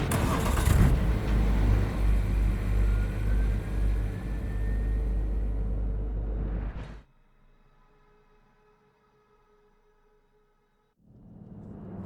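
Engine of a car in Cyberpunk 2077 rumbling loudly and revving as it drives off, then cutting to near silence for a few seconds before the engine noise returns at the end.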